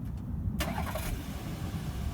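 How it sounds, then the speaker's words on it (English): A 2018 Volkswagen Atlas SUV engine fires up by remote start: a quiet whir, then a sharp catch as it turns over and settles into a steady low idle, heard from nearby outside the car. "So you just lock it, hit the remote start 2 times, starts right up."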